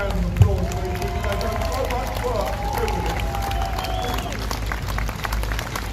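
Crowd at an outdoor Save the Children rally applauding the organisers, a steady wash of clapping and cheering with a noisy crowd murmur and some voices over it, sustained throughout.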